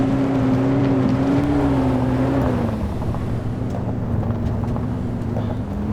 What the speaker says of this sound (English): These cars are really loud.